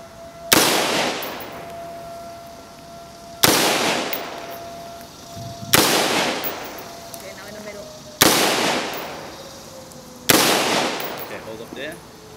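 Five loud rifle shots ring out at an outdoor shooting range, evenly spaced about two seconds apart, each a sharp close crack with a fading echo.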